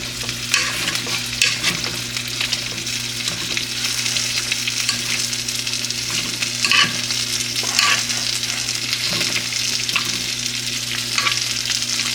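Steady sizzling of food frying in a pan, a continuous crackling hiss with occasional louder pops and stirring sounds, close and fairly loud throughout.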